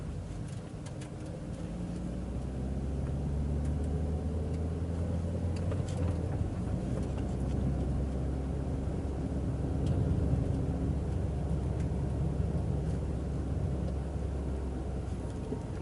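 Manual transmission car rolling slowly in second gear through city traffic, a steady low engine drone and road rumble that holds even and continuous from inside the cabin, with no voices.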